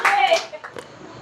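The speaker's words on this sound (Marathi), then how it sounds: "टिक्का भाऊसाठी टाळ्या." A small group claps briefly for a friend during group games on an Independence Day motorbike ride outing, a short burst of hand claps mixed with voices and chatter that quickly fades.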